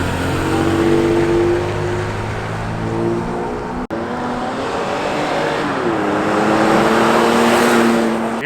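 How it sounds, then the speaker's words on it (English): A Toyota Tacoma pickup carrying a truck camper, on its first drive after an engine tune, accelerates hard, engine note climbing through gears with a brief cut at a shift, loud and close from inside. "First drive after the tune. We're gonna see how this thing rips, dude."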